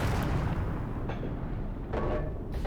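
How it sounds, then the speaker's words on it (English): Tank main guns boom in the Steel Fury tank combat game, alongside a KV-1E and Panzer tanks. Several heavy distant shots sound over a constant rumbling battlefield background. "So somebody just fired his main gun."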